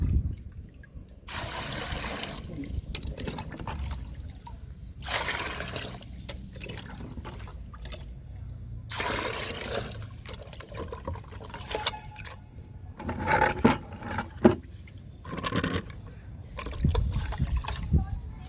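Liquid plant fertilizer mixed in water is poured from a mug onto three plants in repeated bursts of splashing and trickling, with a person talking between pours.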